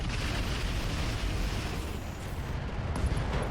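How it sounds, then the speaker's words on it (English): A Trebuchet mech fires on a Jenner in the RogueTech game, a sustained heavy rumbling roar of explosive weapon fire filling the whole moment at steady loudness. "And it is going to fire on the Jenner."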